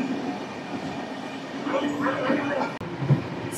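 Visakhapatnam–Guntur Double Decker Uday Express running at speed past a station, giving a steady rumbling roar with faint rail squeals and a brief sharp clank near the end.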